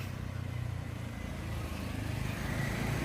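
A Honda Wave 100 motorcycle fitted with a 53 mm piston runs steadily, a low, even engine rumble held at a constant pitch, moderately faint and with no speech over it.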